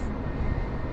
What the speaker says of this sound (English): And hopefully you can hear the A320 there in the background